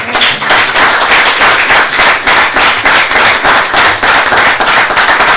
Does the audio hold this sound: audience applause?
yes